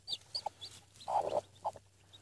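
Soft clucking from a hen with a few high, newly hatched chick peeps, in short scattered bursts close by over a low steady hum.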